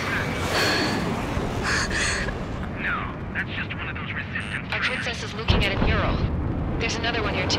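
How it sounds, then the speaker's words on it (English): Missiles launched from the Arsenal Bird in the combat flight game Ace Combat 7: rumbling launch blasts and rushing roar under radio chatter and alert tones, with a sharp loud burst near the end. "Missiles launched from the Arsenal Bird"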